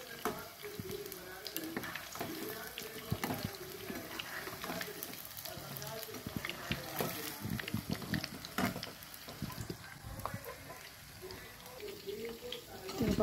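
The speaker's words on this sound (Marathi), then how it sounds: "याला आपल्याला एकदम लो टू मीडियम हीटवरती छान असे फ्राय करून घ्यायचे आहेत" Soybean pieces fry in oil in a small non-stick pan over low to medium heat, giving a steady close sizzle with scattered crackles and stirring clicks throughout.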